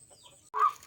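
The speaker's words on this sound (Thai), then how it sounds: "ก็จะมีเป็ดลอยน้ำอยู่" A duck floating on the water by a vegetable field lets out one short, fairly loud quack after a near-silent stretch.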